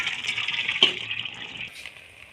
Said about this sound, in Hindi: अब हम इसका पानी स्ट्रेन कर लेंगे।